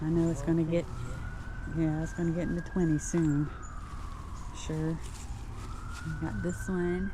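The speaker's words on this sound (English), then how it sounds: "Sorry for the sirens, it's that time of day." Emergency sirens pass by outside a backyard garden, long rising and falling wails in the middle distance, heard under intermittent close-up talk.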